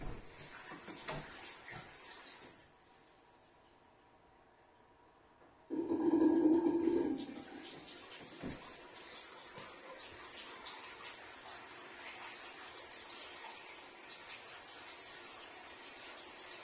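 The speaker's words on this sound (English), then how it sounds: "switch the hot water tap off and on a couple of times" Hot water tap running from a Quantec HR28C combi boiler with a hot water fault, a steady low hiss of flowing water that briefly surges louder for a second or two before settling back to a quiet, even rush.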